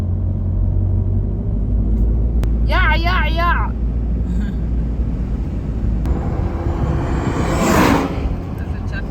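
A khat delivery truck passes on a road in Hargeisa, its engine a steady low rumble that swells into a brief whooshing surge near the end, with a voice speaking briefly early on.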